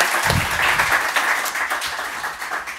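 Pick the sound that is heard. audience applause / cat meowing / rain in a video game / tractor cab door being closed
audience applause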